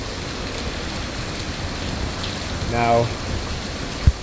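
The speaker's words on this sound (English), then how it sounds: "it is pouring rain." Pouring rain, a steady hiss of heavy rainfall throughout with a brief tonal sound and a short thump near the end, and a single spoken word.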